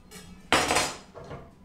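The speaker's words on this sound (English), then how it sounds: "And we're going to take a frying pan." A metal frying pan is pulled out and handled in a kitchen, one loud clattering clank followed by a softer scrape and rattle, close by.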